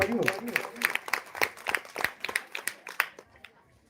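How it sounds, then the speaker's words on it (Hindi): Scattered claps from a crowd at a Chhattisgarh government-scheme folk troupe performance in a village, sharp irregular smacks coming close together after a brief stretch of speech, fading toward the end. "एक बार जोरदार ताली बजा दो संगवारी हो।"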